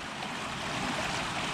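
Storm runoff water pouring and rushing steadily where it dumps out near a fence and bridge after a storm, a continuous broadband wash heard up close with no talk.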